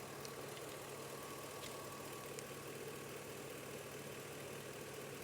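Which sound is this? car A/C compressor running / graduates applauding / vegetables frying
car A/C compressor running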